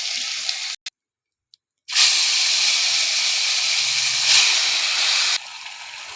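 Prawns and vegetables hit hot oil in a pan and burst into a loud, steady sizzle after a brief silence, then ease to a softer fry.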